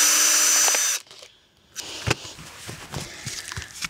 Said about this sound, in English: using the drill for that is total overkill